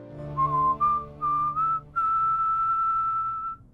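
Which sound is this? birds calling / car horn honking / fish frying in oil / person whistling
person whistling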